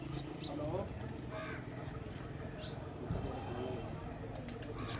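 Pigeons cooing on a rooftop, soft scattered coos and calls heard faintly under people talking nearby over a steady background hum.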